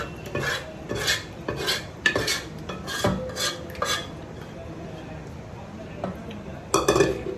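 A spoon stirs wheat and rice papad batter together in a metal vessel, giving repeated scraping clinks in irregular bursts under a woman's speech.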